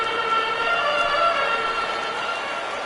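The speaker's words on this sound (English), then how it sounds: "Crowd gets up for the 3-2." A baseball stadium crowd at a Rays versus Orioles game rises on a full count, a loud, sustained roar of cheering voices with a few shrill whistle-like tones, with no break in the noise.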